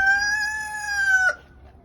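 A chicken gives a long, steady, high-pitched call lasting about a second before cutting off, close and fairly loud, then quiet.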